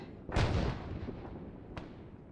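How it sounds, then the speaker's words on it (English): Mortar shells striking nearby in the military game ArmA 3: one heavy, close explosion with a long rumbling decay, followed by a second, sharper and fainter impact about a second and a half later. "those mortars hit pretty gosh darn close"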